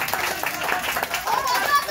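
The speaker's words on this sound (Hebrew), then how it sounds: "מחיאות כפיים." Audience at a school sing-along event in Israel clapping hands, a dense continuous patter of many claps mixed with children's voices and chatter throughout.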